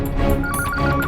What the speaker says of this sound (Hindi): धवल जी का फोन होगा।